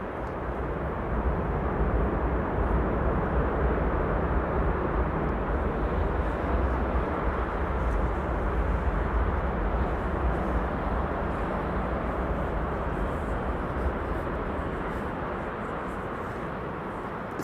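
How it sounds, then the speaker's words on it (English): A KLM Airbus A330-300 arriving at Amsterdam Schiphol on the Kaagbaan runway, a loud sustained low engine roar with broad rumble that holds steady and slowly eases off. "this has been KLM flight 676 arriving from Edmonton, Canada"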